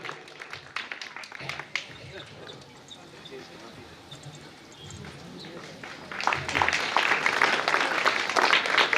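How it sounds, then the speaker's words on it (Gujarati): Applause from an audience welcoming two honoured jawans at a Gujarati felicitation ceremony, scattered claps at first with some talk, then swelling into dense, loud clapping over the last few seconds. "જોરદાર તાળીઓથી આપણે સૌ વધાવી લેશું"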